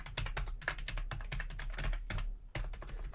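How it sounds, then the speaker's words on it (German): Fingers type steadily on a non-mechanical computer keyboard, producing a quick run of soft, close keystrokes with a few short pauses and no talk. "Ist natürlich keine mechanische Tastatur, das ist klar."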